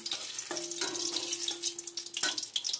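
Dried red chillies and five-spice seeds hit hot oil as a tempering for winter-vegetable khichuri, giving a close, bright crackling sizzle with a few sharper pops and a faint tone humming underneath.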